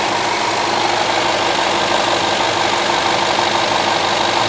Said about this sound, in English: Now rev engine